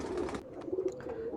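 Pigeons of a large, good-bloodline breed coo in a low, steady murmur through the moment, fairly close and continuous with no talk over it.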